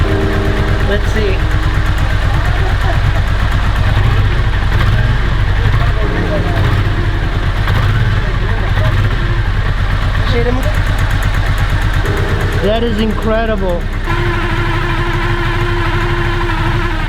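A Honda Ascot motorcycle engine idles steadily after a dozen years without running, a close, continuous rumble with a faint tick, while a voice speaks over it partway through.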